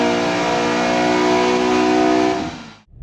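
A Ford Fiesta ST with a remapped Duratec 2.0 engine and Mountune inlet manifold revs hard and high, a loud sustained harmonic howl with no talk, dropping off abruptly near the end.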